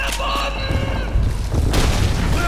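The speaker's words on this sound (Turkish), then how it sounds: "Ya bir de bombayı sallayalım böyle." Booming grenade blasts and gunfire in the World War II shooter Call of Duty 2, a loud sustained barrage with a strong low-end thump near the middle and end, with a voice briefly talking in the mix.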